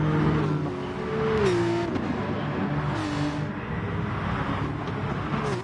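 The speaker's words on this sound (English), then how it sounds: "Listen to those cars downshift. Get back on the power." Race cars in the Gran Turismo Sport video game at Mount Panorama blip and downshift, their engines revving with whining gear changes and a continuous loud roar of racing traffic.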